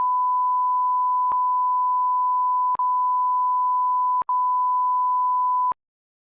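A continuous pure censor bleep tone plays in a podcast at steady loudness for about six seconds, with tiny clicks where its segments join and no voices audible.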